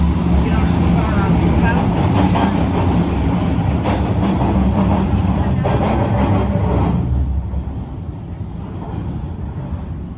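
A Line 1 subway train at an underground station in Canada, a loud rumbling roar with rattling wheels that fades after several seconds, with voices in the background.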